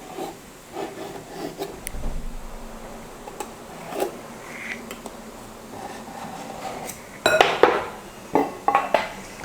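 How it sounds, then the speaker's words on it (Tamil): A knife scrapes and clicks around a plate pressed on rolled snack dough, with scattered taps and rubbing scrapes, a louder cluster of cutting strokes near the end, close and fairly faint. "அதனால் நான் வந்து இப்படி வச்சுட்டு சைடில் ஒரு கத்தி வச்சு கட் பண்ணிக்கிறேன்"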